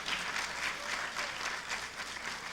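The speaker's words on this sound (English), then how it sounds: "you may applaud." An audience at a college freshman orientation applauds in a steady, even wash of clapping hands that continues throughout at moderate loudness.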